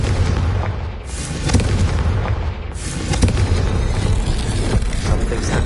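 Loud blasting spell bursts from Hogwarts Legacy gameplay, a dense continuous barrage of booming explosions with sharp cracks near 1.5 and 3 seconds, sustained at full loudness throughout.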